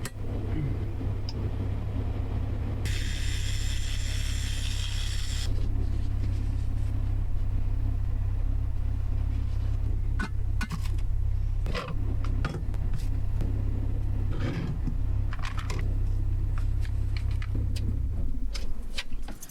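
A small car's engine runs while parked, a steady, continuous low rumble with a brief brighter whine near the start, with no one speaking.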